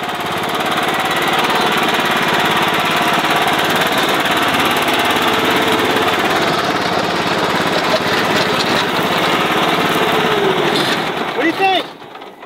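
Farm tractor driving down into a dirt pit, its engine running loud, steady and close throughout before cutting off near the end, with some talk mixed in.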